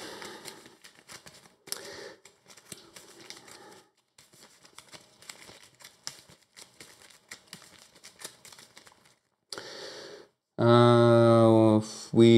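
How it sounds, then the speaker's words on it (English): A discard pile of cards being shuffled back into a deck for the board game Arkham Horror: close, crisp riffling and shuffling clicks in bursts with short pauses, followed by a loud tonal sound at the end. "So we shuffle our discard back into our deck."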